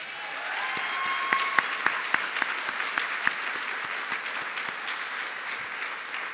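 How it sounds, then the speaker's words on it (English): Audience applause at a nursing pinning and commencement ceremony, a steady, dense clapping that swells and holds for several seconds with a few sharper individual claps standing out. "Now you may applaud."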